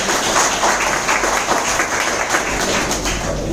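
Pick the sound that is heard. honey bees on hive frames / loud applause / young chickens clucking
loud applause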